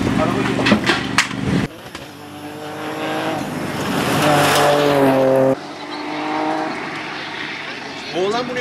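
A Ford Fiesta R2T rally car engine revs and roars loudly, pitch climbing and dropping through gear changes, with a voice talking over it.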